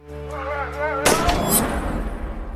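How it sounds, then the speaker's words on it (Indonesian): A single loud gunshot from a film recap bursts out about a second in and decays into a lingering echo, after a brief tonal musical sound at the start. "Toro yang sedang menembak informan kiriman Cody"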